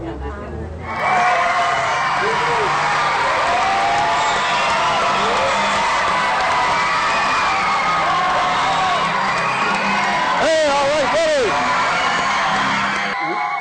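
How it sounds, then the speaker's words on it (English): A school crowd of children at a hockey community event roars, cheering, whooping and yelling continuously at high volume for over ten seconds, with shrill screams rising above the din. "He's getting the crowd revved up."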